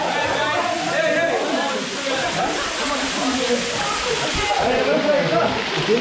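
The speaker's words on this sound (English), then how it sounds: "but that's a waterfall there." Water pours continuously at a resort waterfall in Punta Cana, a steady close wash of splashing and sloshing that runs through the whole stretch while people talk over it.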